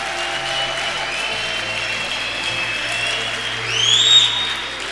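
Church congregation applauding to acclaim the Lord, a steady sustained wash of clapping from many hands that swells slightly near the end, with a faint tone lingering over it.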